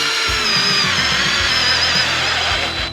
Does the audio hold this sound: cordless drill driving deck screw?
yes